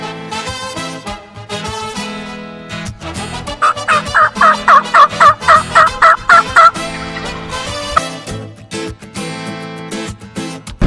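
Wild turkeys gobble in Texas woods, a rapid, rattling burst of loud calls bunched together in the middle, set against other steady tonal sound running throughout.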